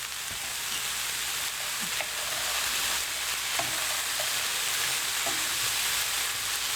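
Singapore fried rice with peas sizzling in a hot pan, a steady loud frying hiss with faint repeated scrapes and taps as it is stirred, no voices.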